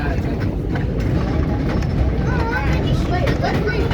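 An R32 subway train runs toward Kings Highway, heard from the front window as a steady, loud rumble and rail roar with faint squeals, no pauses.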